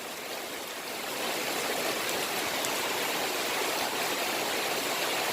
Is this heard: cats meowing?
no